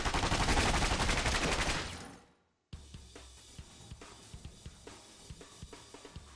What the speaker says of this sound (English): fierce gunfire roar around them